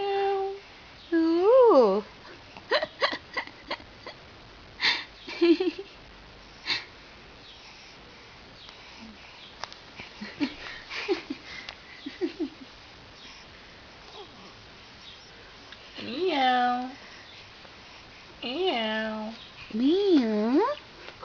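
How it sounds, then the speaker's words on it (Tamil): A cat meows several times in short, rising and falling cries, scattered through a child's or adult's chatter and some soft sniffing. "பூனை. என்ன பண்ற நீ?"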